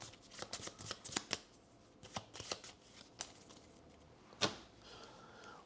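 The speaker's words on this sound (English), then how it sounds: "shuffle the deck, which I literally just did." A deck of cards is shuffled at a tabletop board game session, with a series of close, crisp riffling bursts and one sharper snap near the end.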